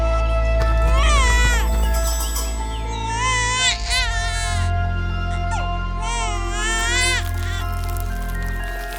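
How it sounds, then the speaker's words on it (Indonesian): An infant cries in three loud, wavering bursts over a steady background of music or ambience, with pauses between each wail. "Tangisan putri yang jernih terdengar seperti gelombang lembut di ruang yang tenang"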